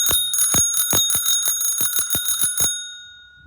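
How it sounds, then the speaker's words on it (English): A bicycle bell is rung rapidly about a dozen times, bright metallic dings close by, then the last ring fades out to silence. "And I'll let y'all hear my bell."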